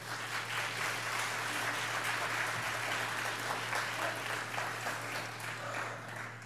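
A church congregation at a midweek Wednesday service claps in a steady, even applause that carries on without a break, fairly soft and heard from a distance through the room.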